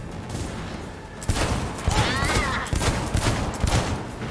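Pistol gunfire in the video game Cyberpunk 2077 cracks out in a rapid, loud burst of repeated shots with booming low end, mixed with game sound effects and a sweeping whine.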